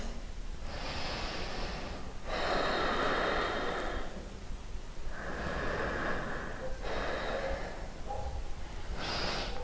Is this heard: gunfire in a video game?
no